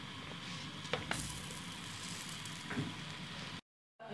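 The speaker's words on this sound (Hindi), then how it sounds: "जो पैन गर्म हो चुका है तो ये मैं पराठा इस पर डालने लगी हूँ।" A sweet paratha sizzles faintly on a hot pan in a low, even crackle with a couple of soft taps, then cuts briefly to silence near the end.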